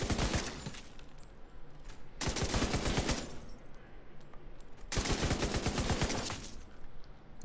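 An LMG fires at a shooting range in The Division 2, with three long, loud bursts of rapid automatic gunfire separated by short pauses.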